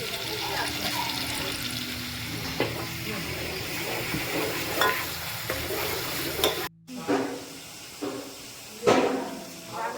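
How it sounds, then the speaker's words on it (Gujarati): Sizzling hot oil as spices hit the pan, with scraping and stirring clatter and a sharp burst near the end. "વઘાર કરી નાખીએ પછી આપણે"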